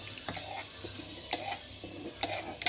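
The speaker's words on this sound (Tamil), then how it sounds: "தண்ணி கொதிக்கிற தண்ணியில் வந்து கரண்டியை வச்சு" A spoon stirs ground rice into boiling water in a pot: soft scraping strokes, with a few sharper knocks against the pot, over a faint bubbling hiss. No talk.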